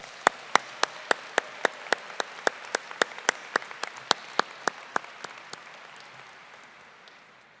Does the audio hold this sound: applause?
yes